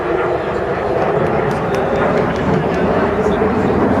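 A Red Arrows BAE Hawk jet roars past at an air show, about 2,500 feet up at 400 mph, a loud continuous broadband rumble throughout, with an announcer's voice faintly mixed in.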